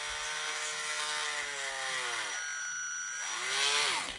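A small drill with a 0.9 mm bit boring through a toy gives a steady high whine that dips and winds back up toward the end, close and continuous with no talk.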